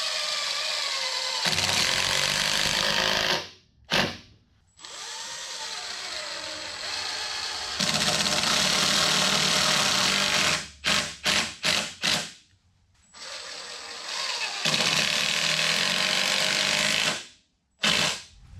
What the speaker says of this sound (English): I don't know if everybody can hear that sound in the background, but it's my air filter system.